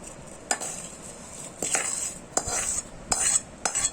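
Metal spoon scraping and clinking against a pan as garlic is stirred in very hot oil for a homemade mango pickle masala, with sharp strikes every second or so and soft sizzling between them.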